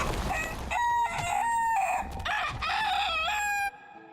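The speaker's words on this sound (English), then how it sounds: "I just like crowing just as much as possible in the pre-game lobby" A character in the Dark and Darker pre-game lobby crows like a rooster, several loud, close cock-a-doodle-doo calls with clucks between them that end abruptly.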